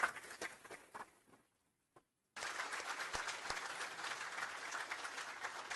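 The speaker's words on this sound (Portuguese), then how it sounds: "pedir uma salva de palmas a cada uma dessas pessoas" An audience claps for dignitaries being introduced at a televised event, a fairly faint patter of applause that fades, drops to near silence, then resumes steadily.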